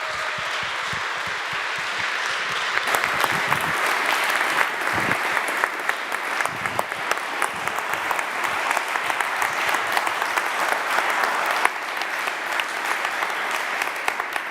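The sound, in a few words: audience applause at TEDx talk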